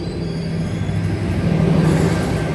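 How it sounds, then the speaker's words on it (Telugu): Mysore–Jaipur Superfast Express with LHB coaches rolling past a closed level crossing, a loud, close, continuous rumble of wheels on rails with a faint metallic squeal and no voices. "ఈ train Mysore Jaipur super fast express."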